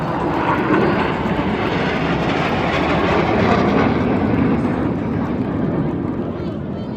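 Jet aircraft roar past at an airshow during the Aero India 2025 grand finale, a loud, steady, broadband engine rumble that swells slightly midway and eases off toward the end.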